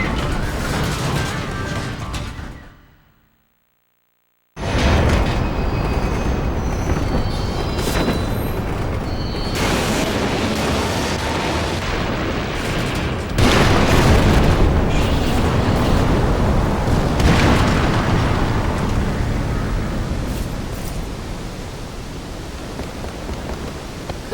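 An explosion rumbles in The Bouncer video game as a loud, sustained roar of broadband noise that drops out briefly, then surges back and keeps rumbling steadily.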